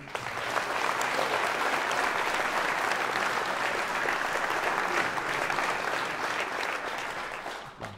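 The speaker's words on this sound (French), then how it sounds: "Je vous demande d'applaudir Michel Largeau." A crowd at a final campaign rally applauds steadily for Michel Largeau, a member of a Paris neighbourhood council, with sustained, even clapping that fills the space and fades briefly right at the close.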